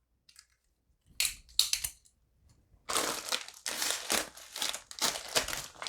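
A Bear & Sons bowie knife slices and rips into the see-through plastic pouch of an APack civilian MRE, making sharp crinkling, crunching plastic sounds in uneven bursts, close by, with short pauses between.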